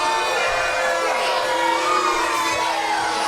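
A crowd at a community wrestling event cheers and shouts loudly and continuously, with high whoops and yells layered through the roar.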